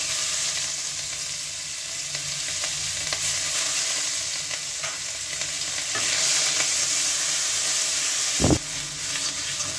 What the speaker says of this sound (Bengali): পেঁয়াজটা একটু কষিয়ে নিয়েছি কালো জিরের সঙ্গে।